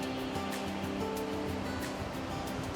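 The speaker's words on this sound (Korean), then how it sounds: "파도 멋있네 오늘." Ocean waves wash ashore on Wonsando island, a continuous loud churning surf with wind mixed in, steady and close throughout, with no voices.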